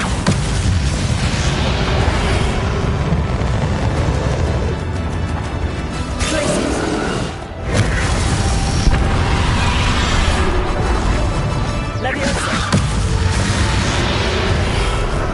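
Hogwarts Legacy combat with Confringo blasts against Ranrock, several booming explosive bursts and whooshes rising out of a loud, dense wall of battle noise and music, with a brief dip in the middle.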